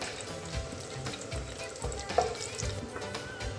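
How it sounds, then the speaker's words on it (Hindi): Whole white cumin seeds and a bay leaf sizzle and crackle softly in hot oil in a home kitchen pan, a continuous faint frying hiss with small pops, no voices. "इसमें 1/2 टीस्पून इसमें ऐड कर दूँगी मैं साबित सफ़ेद ज़ीरा और उसी के साथ ही इसमें ऐड कर दूँगी 1 तेज़पात"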